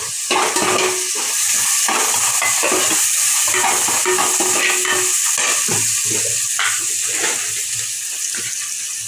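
Loud, steady sizzling of chopped tomato frying in a pan for village-style fish curry, with scraping and clattering as it is stirred repeatedly throughout.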